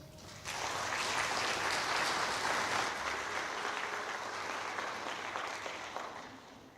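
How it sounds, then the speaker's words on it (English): Sustained applause from a graduation audience at an adult education ceremony, honoring families, teachers and caseworkers; a dense, steady clapping that starts abruptly, holds evenly for several seconds and tapers slightly at the end. "Please give them a round of applause."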